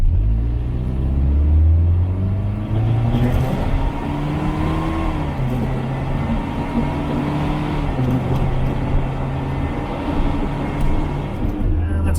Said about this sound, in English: let's just try to go a bit briskly to 80 kilometers an hour per hour, which is the speed limit